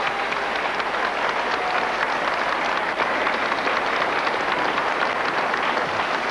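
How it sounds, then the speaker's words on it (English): A televised wrestling crowd gives steady, roaring applause after a drawn bout, a continuous hiss-like wash of clapping heard from a distance with little variation. "and listen to that applause."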